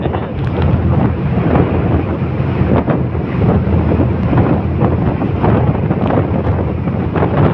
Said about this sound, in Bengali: প্রচন্ড ঢেউ, প্রচন্ড স্রোত, তার মধ্যে দিয়ে জাহাজ চলেছে।